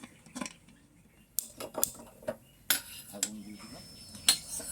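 A pressure cooker lid is set in place over boiling mutton, with a few sharp metallic clinks and clatters spaced across the moment, close and moderately loud, against quiet kitchen background.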